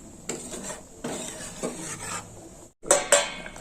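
A spoon scrapes and knocks around a pot of green jackfruit curry, with repeated rubbing strokes, a brief gap, then two sharper metallic clinks near the end.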